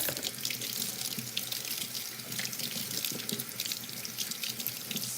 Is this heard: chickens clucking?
no